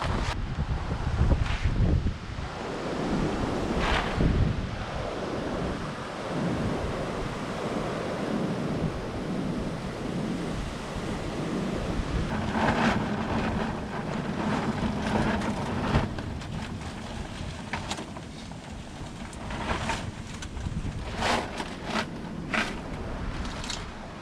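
Strong winter wind roaring and buffeting the microphone outdoors in snowy conditions, a loud continuous rush with stronger gusts rising and falling throughout.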